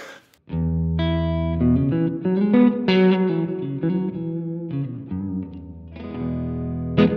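An electric guitar plays ringing chords and single notes through a Blackstar St. James EL34 amp head, coloured by effects pedals that add shimmer, grit and a lingering wash of sound.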